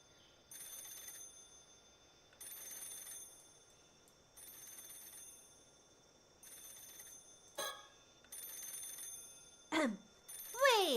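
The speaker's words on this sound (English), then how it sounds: "The phone's still ringing." A telephone rings repeatedly in the Paranormasight video game, several evenly spaced bursts of bright electronic ringing with quiet gaps, joined near the end by a few short sweeping tones.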